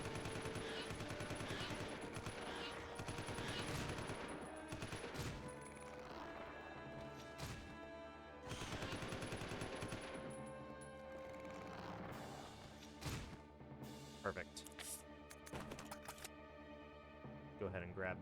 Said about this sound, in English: Prime the gun. Shoot!